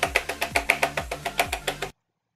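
Rapid jitter clicking on a computer mouse, about a dozen sharp, close clicks in quick succession for under two seconds, then silence.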